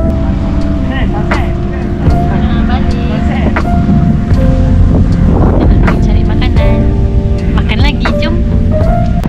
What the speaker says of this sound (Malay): Kat sini angin sedap.